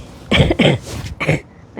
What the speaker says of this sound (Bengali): কাশিটা কেমন একদম বুকে বসে গেছে